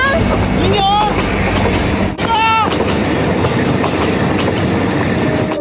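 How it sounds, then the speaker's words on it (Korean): A train pulls away from a station platform in the film My Sassy Girl, its loud rolling rumble and wheel clatter steady throughout, with high squealing tones riding on top. "기차가 떠나는 소리"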